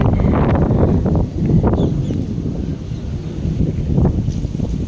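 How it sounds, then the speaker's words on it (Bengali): Strong wind blowing outdoors, buffeting the microphone with loud low rumbling gusts that rise and fall without pause for the whole stretch. "দেখো কত হাওয়া উঠছে, আমার ওড়নাটা উড়ে যাচ্ছে।"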